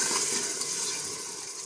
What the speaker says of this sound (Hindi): अब इसमें ऐड करेंगे 1 कप पानी